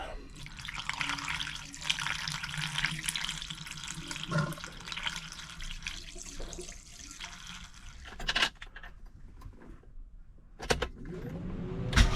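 Water is poured into the radiator of a classic Mini Cooper to top it up, a steady close gurgling splash that runs for several seconds, then trickles and drips with a few knocks.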